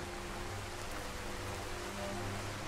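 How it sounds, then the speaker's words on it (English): Torrential rain falling in the Skyrim video game, a steady, dense hiss of downpour that holds evenly throughout with no other sounds. "time to keep on going and get out of this rain"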